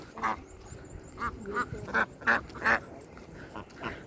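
Ducks quacking in short bursts, several calls spaced irregularly, fairly faint against a soft outdoor background.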